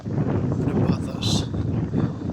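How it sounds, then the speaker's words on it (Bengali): Wind gusts outdoors and buffets the microphone with a steady low rumble and rushing noise that swells and eases over a couple of seconds. "বাতাস।"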